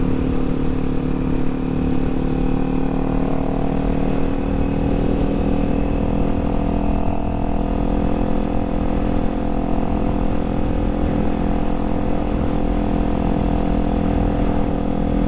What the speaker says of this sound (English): Engine braking is when you come to a complete stop without holding the clutch.